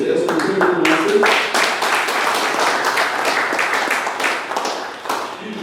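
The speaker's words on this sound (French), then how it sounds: "Il mérite des applaudissements" An audience applauds a professor at a formal French-language planning meeting, the clapping dense and steady throughout, with a voice speaking over it at the start.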